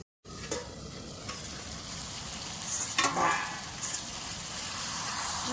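A village-style mashed vegetable curry sizzles steadily in a pan, with a few scraping, flipping knocks partway through and a soft continuous fry underneath.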